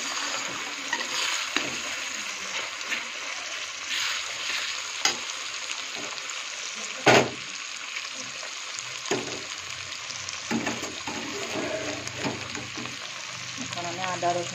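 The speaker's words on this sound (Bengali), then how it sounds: "তো আমার পেঁয়াজটা টমেটো ভাজা হয়ে গেলে" Onion and tomato frying in a pan for ghugni, a steady close sizzle with occasional stirring scrapes and clacks throughout, one sharper knock midway.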